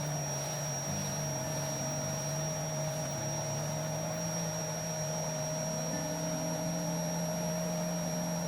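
A household hoover vacuum cleaner runs steadily throughout, a constant droning hum with a faint whine and no pauses.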